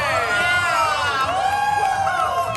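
Audience at a Thai instant-noodle brand launch with the group LYKN, loud close cheering and high excited shouts rising and falling together, with talking mixed in.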